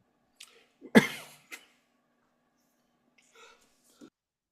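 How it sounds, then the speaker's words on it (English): A single sharp cough bursts out close to the microphone during a quiet podcast conversation, followed by a few small throat sounds and breaths, with brief murmured speech afterward. "Excuse me, I coughed."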